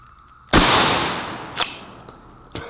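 A shotgun loaded with number 8 shot fires one loud, sharp blast outdoors at close range, followed by a long echoing decay and a few fainter cracks or impacts afterward.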